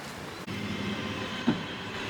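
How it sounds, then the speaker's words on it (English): A train rolling on rails, heard as a steady rumbling roar with one brief clunk, fairly close and with no voices. "That is one of the old trams that used to run up and down Ryde Pier."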